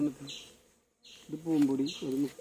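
Honey bees buzz close by at their hive in a droning hum that drops away briefly, then swells again.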